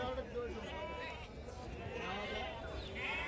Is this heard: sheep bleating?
yes